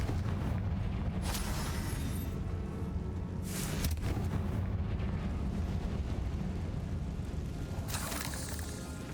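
Fiery Confringo spell blasts erupt in a dark tomb in Hogwarts Legacy, a sustained loud rumbling roar with repeated booming bursts that stays dense and heavy throughout.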